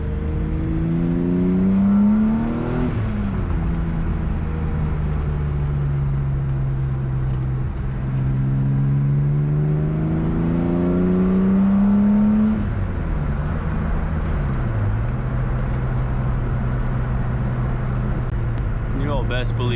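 A car engine revs up and down with rising and falling pitch sweeps, loud and close, the drone holding steady between surges.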